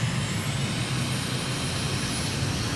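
A fixed-wing aircraft engine throttles up for takeoff in Tonga, a steady loud roar with a deep low drone and broad hiss holding evenly throughout, no voices.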